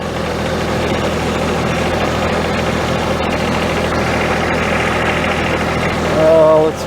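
A John Deere 1025R compact tractor idles steadily close by in a garden during tilling, a constant low engine drone with a slight knock that swells briefly near the end.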